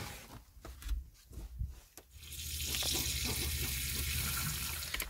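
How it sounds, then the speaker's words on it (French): Tap water pours steadily into a basin of laundry and detergent inside a van, first a few splashes and knocks, then a continuous close hiss of running water. "Je vais mettre le linge et puis je vais rajouter de l'eau par-dessus."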